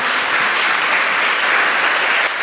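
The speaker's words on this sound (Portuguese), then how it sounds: "Dê uma salva de palmas a esse Deus maravilhoso" Steady, dense applause from a congregation during a pastor's sermon, a continuous wash of clapping that holds at full strength throughout with no voices.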